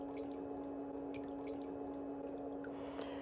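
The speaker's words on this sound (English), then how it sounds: "you can put that foot back in the water" A foot is lowered back into a basin of soaking water during a pedicure for an impacted toenail, giving soft drips and sloshes over a steady background hum, close and quiet, with no talking.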